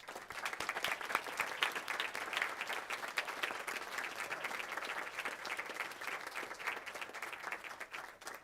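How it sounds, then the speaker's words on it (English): Audience at a school board of education meeting gives a round of applause, steady crisp clapping from a modest crowd heard somewhat distant and fairly quiet throughout. "please give him a round of applause."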